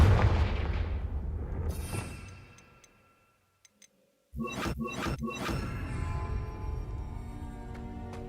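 A Confringo fire-blast spell explodes in the Hogwarts Legacy video game, a sudden loud burst of crackling impacts after a brief near-silence, followed by sustained rumbling game noise and music.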